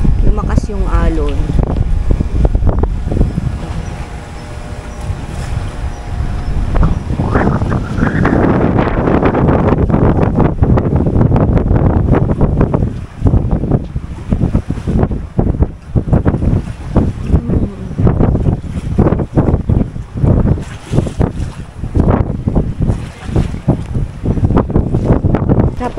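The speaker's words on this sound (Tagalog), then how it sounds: "Tapos itong hangin, oh." Strong wind gusting at the seaside with waves breaking, the gusts roaring against the microphone in a steady loud rush, with speech running under it.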